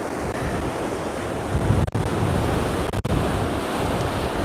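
Rough sea at Cala Millor, Mallorca, with loud, continuous crashing surf and waves under strong gusting wind buffeting the microphone, two brief dropouts, no voices.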